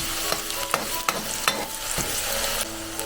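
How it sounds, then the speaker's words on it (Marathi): Onion fries in oil in a pan over lowered gas, with a gentle steady sizzle and several light spatula scrapes and taps as it is stirred. "गॅस थोडा कमी करायचा आणि कांदा आहे तो चांगला परतून घ्यायचा जरा ब्राऊन झाला पाहिजे कांदा"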